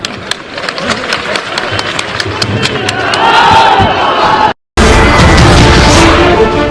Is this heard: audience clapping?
yes